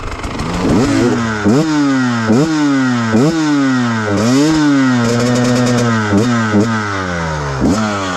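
KTM TPI two-stroke motorcycle engine fitted with a relocated injector, run at wide open throttle, loud and close with a sustained high rev and repeated rising sweeps as it climbs through the gears, with no talking.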